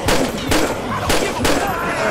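Loud, close gunshots in a zombie outbreak game, fired in quick spaced pairs and bursts roughly every half second, with a dense blasting texture and no clear talking.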